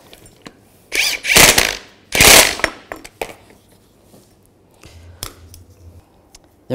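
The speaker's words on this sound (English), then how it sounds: "Now tighten this bolt down." Ratchet wrench tightening the rear shock absorber bolt on a 2006–2010 Volkswagen Jetta, with two loud close bursts of rapid clicking, then a few scattered lighter clicks and metallic taps.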